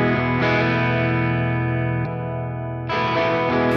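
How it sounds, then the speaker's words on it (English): An electric guitar plays through a Greer Amps Moonshot treble booster pedal, sustained bright distorted chords ringing close and loud, with a short dip in level partway through before a fresh strum comes in, and no talking. "I also believe it's acting like a treble booster"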